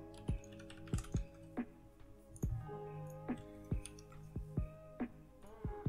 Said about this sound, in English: So you start off by pressing Ctrl, Alt and the Home on your keyboard.